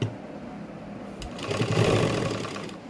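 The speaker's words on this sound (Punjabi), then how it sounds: "ਇਸ ਤੋਂ ਬਾਅਦ ਆਪਾਂ ਕੰਨੀ ਕੰਨੀ ਤੇ ਸਲਾਈ ਲਾਵਾਂਗੇ" A sewing machine stitches lace onto the edges of a sleeve, a steady close mechanical whir that speeds up partway through.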